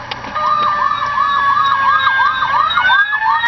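Fire engine siren played through the speaker of a custom Power Wheels toy fire truck, a loud wailing tone that sweeps up and down in quick repeated cycles, steady and close throughout with no talking.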